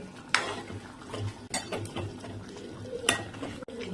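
A spoon stirring a dal and tinda (dhemse) vegetable curry in a pan, with close metallic scrapes and clinks against the pan at an uneven rhythm.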